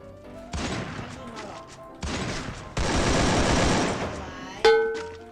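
Bursts of automatic gunfire from a shooter video game come in several sustained volleys, then end with a sharp ringing impact. They are loud and close, with a voice speaking between the bursts.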